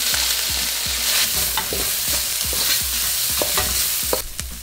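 Liver fries in oil in a pan for African fried rice, sizzling loudly and steadily while a utensil scrapes and stirs in a regular rhythm.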